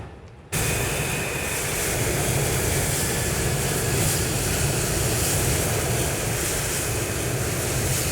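A steady loud roar of a jet aircraft taking off ahead in a flight simulator comes in abruptly and holds constant and dense, broadband and unbroken, with no speech over it.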